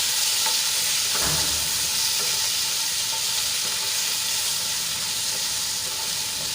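Chopped tomatoes and onion being stirred in a hot frying pan, a steady loud sizzle with scraping spoon strokes near the start, continuous and close with no talk.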